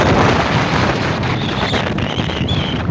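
Strong wind at the Kadana river dam batters the microphone in a loud, steady roar of rumbling gusts that never lets up, with faint higher whistles near the end.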